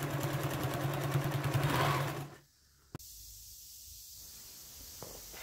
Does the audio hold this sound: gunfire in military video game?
no